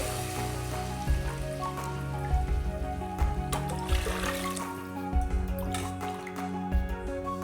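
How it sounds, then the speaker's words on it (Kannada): Water is poured into a pot of rice for butter rice, giving irregular splashes and drips close by against a steady background hum, with no talking. "ನೀರನ್ನ 4 ಲೋಟದಷ್ಟು ಹಾಕೋತಾ ಇದ್ದೀನಿ"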